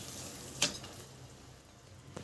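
Potato and green peas gravy boils in a pot with a steady, close bubbling hiss, broken by a brief metallic clink early on and another faint one at the end.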